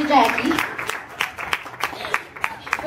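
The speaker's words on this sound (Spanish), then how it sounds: "A round of applause for sister" Scattered applause at a church Christmas celebration, a few separate claps standing out over a voice talking at the start, thin and uneven rather than a full ovation.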